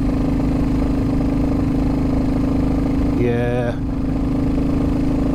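A Royal Enfield Classic 350 engine thumps steadily in third gear while climbing a steep hill, a loud, close, continuous drone, with a brief spoken word partway through.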